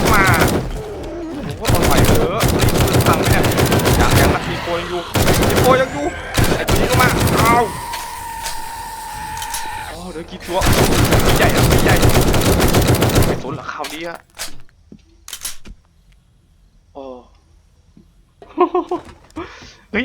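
Rapid bursts of automatic gunfire in the survival game 7 Days to Die, loud and close, coming in dense clusters with short pauses, then thinning to sparse shots while voices talk in between.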